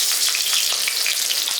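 Chopped green chillies fry in a pan, giving a loud, close, unbroken sizzle with quick spattering pops and no one speaking.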